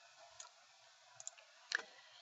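A computer mouse clicks a few times during CAD software navigation, producing faint, sharp single clicks spaced irregularly, with a louder double click near the end over a quiet background.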